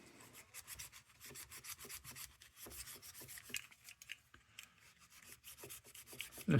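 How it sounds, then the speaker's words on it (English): Close, brisk rubbing and scrubbing on an old Blue Grass Belknap Howe lantern being polished, a fast repetitive back-and-forth rasp with no voices. "It makes a big difference. Just with a little bit of rubbing."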